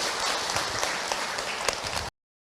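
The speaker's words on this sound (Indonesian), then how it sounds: "Tepuk tangan buat kita semua." Audience applause at an Indonesian religious lecture, a dense, steady burst of clapping from a hall crowd lasting about two seconds and then cutting off abruptly, with no voices over it.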